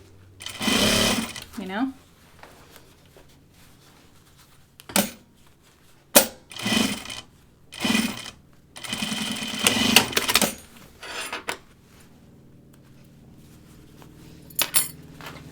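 Sewing machine stitching a Tamarack jacket runs in several short bursts of whirring, close and clear, separated by pauses, with someone talking briefly in between.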